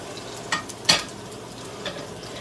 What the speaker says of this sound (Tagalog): So ilagay na natin yung ating bawang tsaka sibuyas. Yan. Haluin ko na lahat.